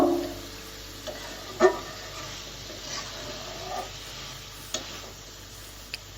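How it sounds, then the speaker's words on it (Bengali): Pepoli greens frying in oil in a pan, stirred with a soft, steady sizzle and occasional scraping knocks of a spatula, close and moderately loud, with no voices. "আমি নাড়াচাড়া করতে থাকবো"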